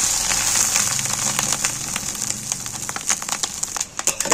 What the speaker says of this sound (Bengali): দেখো, উল্টে পাল্টে ভেজে নিচ্ছি।